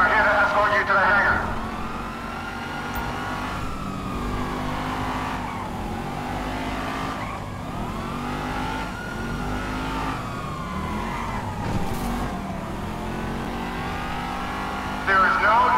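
A car in Grand Theft Auto V is driven erratically, its engine revving and swooping up and down in pitch with brief tire squeals. Voices talk over the driving noise.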